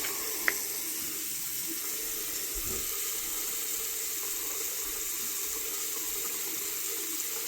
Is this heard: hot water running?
yes